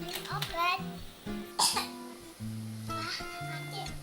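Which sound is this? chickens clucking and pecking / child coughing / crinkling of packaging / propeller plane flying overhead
child coughing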